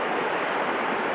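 Rushing river water pouring steadily through a narrow rock canyon on the Robson River in British Columbia, a dense, continuous roar close by with no voices.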